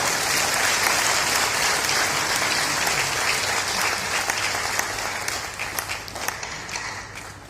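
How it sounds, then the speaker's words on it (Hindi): An audience at a Brahma Kumaris motivational event claps loudly and continuously, the dense applause filling the hall and slowly thinning toward the end. "तालियां बजाइए।"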